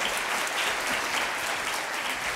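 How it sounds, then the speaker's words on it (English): An audience at a physics lecture breaks into applause, dense clapping from many hands that holds steady and loud throughout. "Excellent, thank you, an applause."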